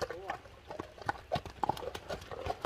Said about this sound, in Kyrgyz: Эми бул кара ат Дерски дедиң, а?